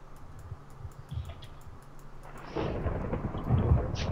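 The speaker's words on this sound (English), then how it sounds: "It's thundering." Thunder rolls through a Minecraft thunderstorm, starting as a low rumble and swelling into a louder, sustained crash over rain in the last part of the clip, with no voices.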